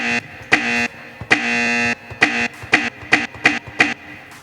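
A buzzer sound effect fired from a Logic sampler, heard as a string of loud harsh electronic buzzes, two longer ones followed by several short repeated bursts, with no talking.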